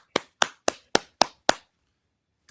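Six sharp hand claps in an even, fairly quick rhythm, close and crisp, followed by a short silence.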